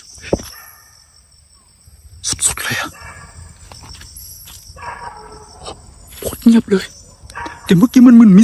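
A dog howls and barks at night near a cemetery, with a few loud nearby yelps and drawn-out howls among crickets and quiet ambience, while people murmur and talk.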